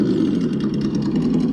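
Small Traxxas TRX4M RC car's electric motor running steadily, a buzzing mid-pitched whir with slight pulsing, close and fairly loud, no talk.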